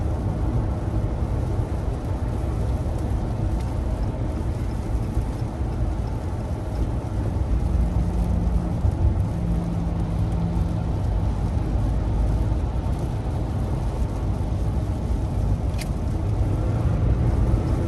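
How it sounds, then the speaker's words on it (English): Steady low road rumble and soft wind hiss fill the cabin of a 2022 Ram 1500 Limited EcoDiesel pickup truck, continuous and even throughout, with no talking. "Wind noise is a lot less than I was expecting it to be."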